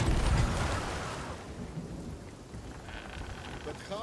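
Stormy weather in the pirate ship game Sea of Thieves: steady rain hiss with a heavy thunder rumble at the start that fades into continuous rainfall, no voices over it.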